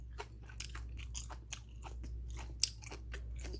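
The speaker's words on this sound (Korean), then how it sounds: "무가 이렇게 아삭거리면서 아, 진짜 잘 씹히고요." Crunchy radish in nabak water kimchi, with extra chilli, chewed close to the mic, giving a steady run of wet, crisp bites and crunches with no talking.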